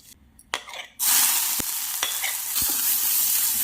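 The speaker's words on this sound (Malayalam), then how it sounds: "എടുത്തു വെച്ചിരിക്കുന്ന ഉള്ളി, ഇഞ്ചിയും പച്ചമുളകും നന്നായിട്ടൊന്ന് പുരട്ടിയ ശേഷം വറുത്തെടുക്കാം" Onion, ginger and green chili hit hot coconut oil in a pan for green gram dal curry, a sudden loud sizzle that starts after a few quiet stirs and then holds steady with brief scrapes, with no voices.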